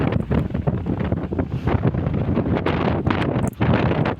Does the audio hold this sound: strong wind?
yes